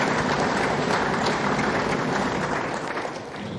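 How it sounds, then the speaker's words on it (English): A crowd at a state security trust fund launch in Uyo applauding, a loud, thick wash of clapping that fades a little toward the end. "Please, I ask that we give a big round of applause to all our governors"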